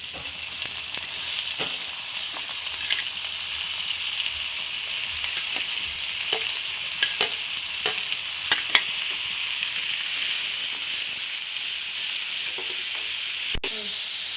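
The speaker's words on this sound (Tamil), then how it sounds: "பெருஞ்சீரகம் நல்லா ரோஸ்ட் ஆகட்டும். பச்சை மிளகாயும் போட்டுக்கலாம்." Fennel seeds and green chilies roasting in a hot pan give a steady close sizzle and hiss, with scattered light pops and scrapes of stirring throughout and one sharp clack near the end.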